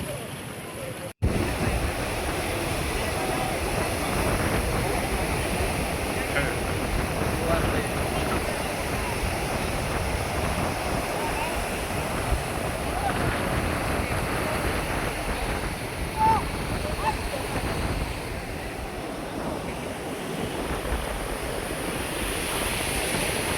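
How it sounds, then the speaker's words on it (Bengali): Sea waves roll in with the rising tide at Guliakhali beach in Sitakunda, a steady wash of surf mixed with gusty wind buffeting the microphone. "জোয়ারের পানি উঠছে।"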